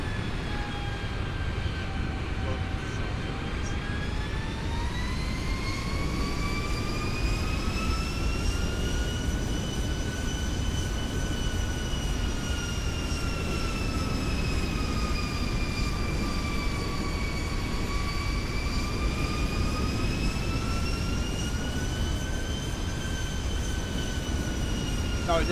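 An Embraer E190 jet airliner in flight in the X-Plane 11 flight simulator, Air Canada livery, produces a steady, loud engine drone with slowly wavering whine tones throughout, continuous and unbroken.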